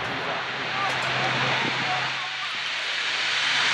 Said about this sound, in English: then the A400 starts its takeoff run